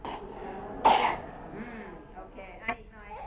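A single sharp cough bursts out amid ongoing talking, followed later by a smaller throat sound, close and fairly quiet.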